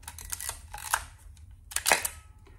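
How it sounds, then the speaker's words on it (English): Close, crisp mechanical clacks of a Topcon Auto 100 35mm SLR film camera shutter firing, several in quick succession with short gaps between them. "listen to this shutter"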